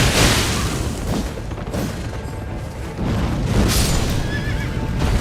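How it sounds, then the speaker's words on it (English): A horse neighs and whinnies loudly in the video game Elden Ring Nightreign, two drawn-out calls over hoofbeats and rumbling game effects. "Get off the fucking horse."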